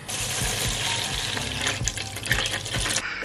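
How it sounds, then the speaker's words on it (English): Hot water pours from a tap into a bowl, a steady full rushing splash with a gurgling texture, close and fairly loud, tapering off near the end with no voices. "Right, so it says to fill up a bowl with hot water."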